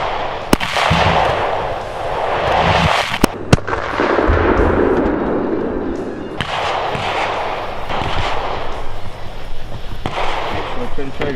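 Loud 5.56 rifle shots fired outdoors into a test block at a police demonstration, several sharp cracks with echoing booms spaced a few seconds apart, with people talking in between.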